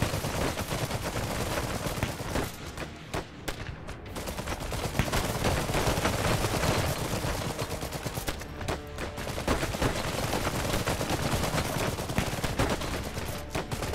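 Rifle squad gunfire in the diesel-punk RTS Iron Harvest, a dense, sustained fusillade of overlapping shots with brief lulls, loud and continuous throughout.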